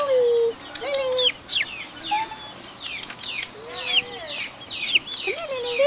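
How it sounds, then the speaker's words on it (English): A white chicken clucks and calls repeatedly in a farmyard, with a series of short rising and falling clucks among other fowl sounds. "That's my chicken."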